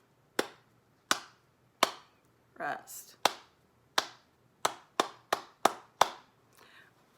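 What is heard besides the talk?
hand clapping a rhythm exercise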